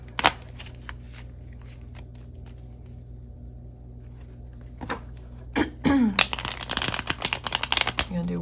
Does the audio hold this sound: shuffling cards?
yes